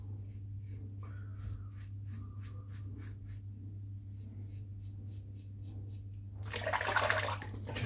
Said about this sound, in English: I'm just going to rinse the sink out